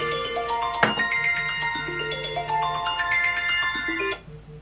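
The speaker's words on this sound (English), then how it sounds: "My phone is ringing." A phone ringtone plays a bright, repeating electronic melody of chiming tones for about four seconds, then cuts off.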